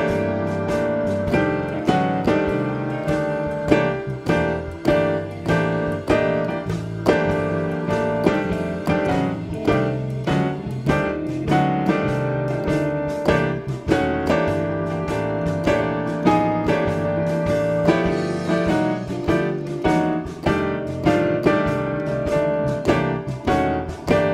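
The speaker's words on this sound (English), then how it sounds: "if you play this technique with the included backing track, it might sound something like this" Blues piano chords with half-step approach chords played over a backing track, a steady rhythmic groove of full, bright chord stabs and band accompaniment that stays loud and continuous throughout.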